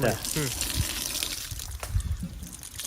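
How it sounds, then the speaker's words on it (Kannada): Water gushes and splashes from a pipe fitted to a farm borewell, a close, continuous flow with a person talking over it. "ಸ್ವಲ್ಪ ದೂರ ಹೀಗೆ ನೀರು ಆಡ್ತದೆ ಇಲ್ಲಿ"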